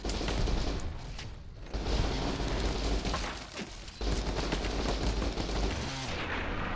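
Rapid gunfire in Fallout: New Vegas, loud, dense bursts of shots with short pauses between volleys, ending in an abrupt cut to quiet.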